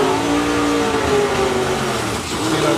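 Hulk MX-5 race car accelerating hard down a drag strip at a sportsman nationals test day, a steady loud engine drone with rising harmonics, continuous and close throughout.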